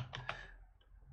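A few quick clicks on a computer keyboard, close and fairly soft, as text is typed into a settings field during a software walkthrough, followed by quiet room hum.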